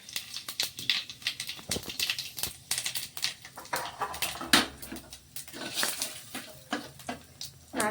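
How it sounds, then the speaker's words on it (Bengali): Bay leaf, dried chilli, cumin and nigella seeds tempering in hot oil, rapid irregular crackling and popping close up, mixed with light clinks of a pan, steady and without talk. "এই যে তেজপাতা, শুকনো লঙ্কা, এই যে জিরে, এই কালো জিরে, এগুলো আমি ফোড়নে দিয়ে দিচ্ছি।"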